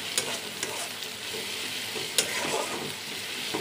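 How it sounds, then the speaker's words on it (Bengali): Onions and green chilies sizzle steadily in a hot pan, with a few sharp clicks and scrapes from stirring breaking through the continuous crackle; no voices are heard. "এখন এখানে ভালো করে বেশি করে পেঁয়াজ আর কাঁচামরিচ দিয়ে দিচ্ছি। তখন এটাকে ভালো করে ভাজা ভাজা করে নিব।"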